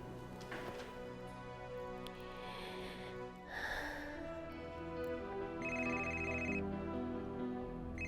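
A telephone rings faintly in short electronic bursts, partly buried under a soft, steady background bed of tones and room noise in a drama scene.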